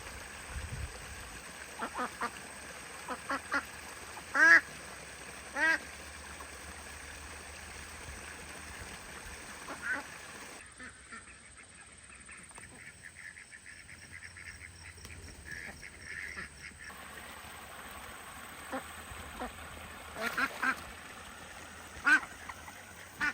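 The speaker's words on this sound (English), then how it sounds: "Got one duck in the pond." Scattered quacks from a duck on a farm pond sound faintly and intermittently over quiet outdoor ambience with trickling water, a few sharper calls standing out.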